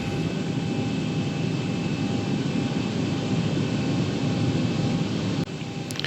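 Airliner in a flight simulator taxiing out to the active runway at Jacksonville (KJAX), a steady broadband engine drone with faint high tones running throughout, dipping slightly near the end.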